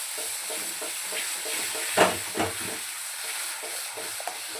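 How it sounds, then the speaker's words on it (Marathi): Masala paste of red chilli, turmeric and ground paste fries and gets stirred in hot oil for a drumstick curry, a steady close sizzle with a couple of louder spatula scrapes. "छान मसाला आपल्याला यामध्ये परतून घ्यायचा आहे तेलामध्ये"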